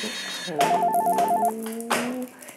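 A telephone rings with a quick warbling electronic tone in short repeated pulses, close and clear, followed by a brief second ring burst in a quiet indoor scene.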